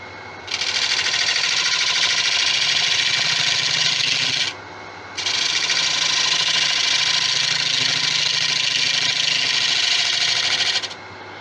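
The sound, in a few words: carbide turning tool cutting resin on a tigerwood bowl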